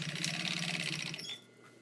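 A sewing machine top stitching a tote bag, rapid, even mechanical stitching heard close and fairly quiet, stopping abruptly after a little over a second.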